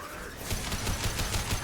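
Gunfire with fire bullets in Mass Effect 2: a brief, fast burst of rapid, evenly spaced shots at moderate loudness, with no talk.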